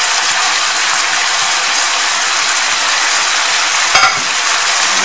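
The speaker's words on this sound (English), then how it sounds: "Okay, my chicken is cooked. I have yellow onion, or you can use sweet onion, and sweet pepper here, and I have Thai basil." Chicken stir-frying with yellow onion, sweet pepper and Thai holy basil, a steady loud sizzle filling the whole clip, with one brief clatter near the end and no talking.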